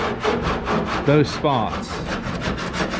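A cheese-grater style rasp is worked over wood in rapid, rhythmic back-and-forth strokes, close and loud, with a person speaking briefly over the scraping.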